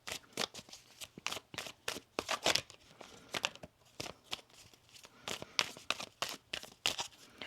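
Oracle cards being shuffled in repeated quick riffling bursts, crisp and close, with brief pauses between flurries.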